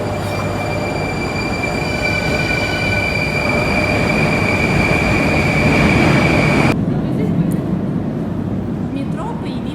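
Moscow metro train running through Mendeleyevskaya station, a loud, close roar of wheels and carriages with a steady high whine that cuts off abruptly near the end, leaving rumbling noise.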